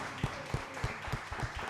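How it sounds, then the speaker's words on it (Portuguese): A church congregation applauds during a worship service, steady rhythmic clapping in about six even beats, moderately loud and filling the room with no voices over it. "Vamos aplaudir o Senhor."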